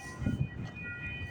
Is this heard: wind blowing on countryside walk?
no